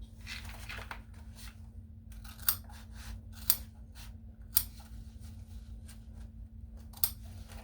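Scissors snip through fabric in a few sharp, separate cuts, close up and quiet over a low steady hum.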